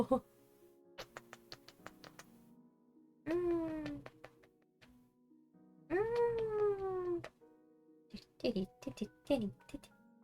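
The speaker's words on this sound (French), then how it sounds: "Et il y a un chat qui veut vous dire bonjour." A cat meows several times in the video game The Legend of Zelda: Tears of the Kingdom, drawn-out rising and falling cries, between light clicks and a soft voice murmuring faintly in the background.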